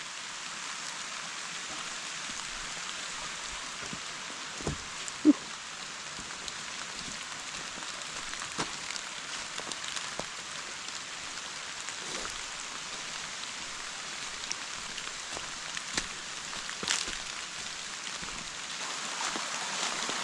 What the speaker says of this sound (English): This is like the first pretty substantial amount of rain we've gotten in a while.